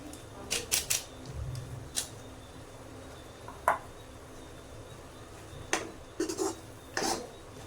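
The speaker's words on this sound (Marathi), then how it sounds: "हलवून मिक्स करून घेऊया" Mutton masala is stirred in a metal pot, with irregular scraping clinks of a spoon against the pot, some close and sharp, over faint background noise.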